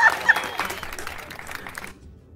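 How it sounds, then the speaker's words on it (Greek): Brief applause from a small group of people behind the camera, a short burst of scattered clapping that fades out after about two seconds. "Χειροκροτήματα παρακαλώ από πίσω να πέσουνε"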